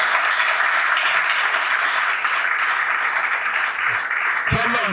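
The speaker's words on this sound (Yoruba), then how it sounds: "ká dìde ká pàtẹ́wọ́ ńlá fún Ọlọ́run" Steady, even applause from an audience at a Yoruba-language school debate competition, a broad wash of clapping held at one level for several seconds, with a voice breaking in near the end.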